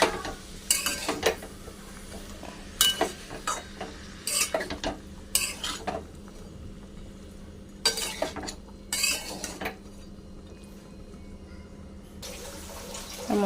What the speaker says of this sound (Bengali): এবার চাল কুমড়োটাও কষিয়ে নেব ভালো করে।